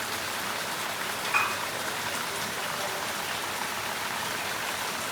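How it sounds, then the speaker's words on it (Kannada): Rain falls steadily in an even, hissing wash that holds throughout, with one faint brief chirp early on and no voices. "ಮಳೆ ಬೇರೆ ಬರ್ತಾ ಇದೆ"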